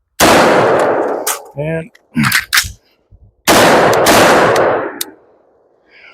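Rifle shots fired in rapid bursts during range training, loud and close, with brief metallic clanks and a short spoken word between volleys.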